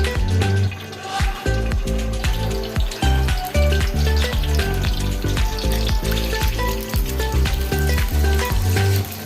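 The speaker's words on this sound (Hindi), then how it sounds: "ऑयल हमारा गर्म हो जाएगा, इसमें हम सबसे पहले अंडे फ्राई करेंगे।" Five eggs frying in hot oil for chicken fried rice, a loud, steady crackling sizzle with rapid popping spatters throughout and no talking.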